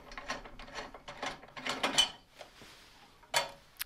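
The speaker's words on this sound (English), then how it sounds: "So we'll get these off with our 13mm socket." A ratchet fitted with a 13mm socket removes bolts near the ABS control module of a 2001 Mini One Cooper, giving close, crisp bursts of rapid clicking separated by short pauses.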